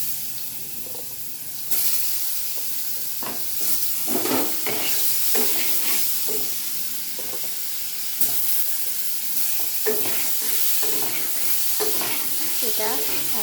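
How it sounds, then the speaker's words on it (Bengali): Paneer pieces sizzling in hot oil seasoned with salt and turmeric, a loud steady hiss after a sudden burst as they drop in, with scattered spoon scrapes and clatter close by. "এবার আমি পনিরগুলো তেলে ছাড়বো"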